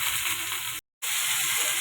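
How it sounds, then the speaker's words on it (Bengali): Tomato, onion, carrot and green chilli fry in oil with a steady, close hiss and sizzle, broken once by a brief moment of silence. "টমেটো পেঁয়াজটা ফ্রাই হয়ে গেছে।"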